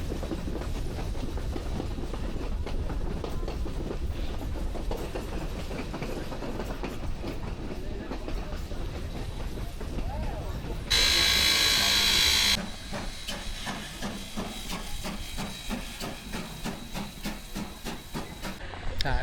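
A steam train travels through the mountains, a steady rumble and rolling rail noise throughout, broken by a loud burst of hissing steam partway through before the running sound resumes.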